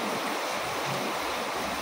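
River flowing close by outdoors, a steady broadband rushing wash with a hint of wind across the microphone, continuous and fairly loud with no voices.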